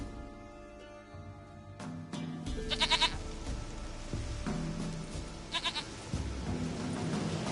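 Goat bleating in a video game: two short wavering bleats, moderately loud and fairly close, heard alone over a steady bed of game music and ambience.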